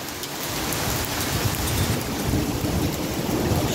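Dense, continuous pattering of hail drumming on surfaces during a hailstorm in Ioannina, Greece, steady and loud with a low rumble underneath, no voices.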